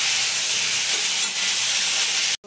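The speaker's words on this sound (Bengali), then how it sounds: "ভালো করে লাল লাল করে ভেজে নিয়েছি" Spices fry in hot oil in a pan with a loud, steady, dense sizzle that holds throughout and cuts off abruptly at the end, close up with no voices.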